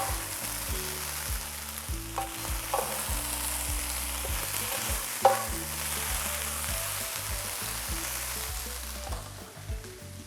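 Potatoes browning in a pan for breakfast burritos give a steady, close crackling sizzle with a few stirring scrapes.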